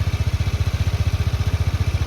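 A Honda Dio 110 JF31 scooter engine idles close by with a steady, even rhythmic putter, about a dozen firing pulses per second, loud and alone with no voices.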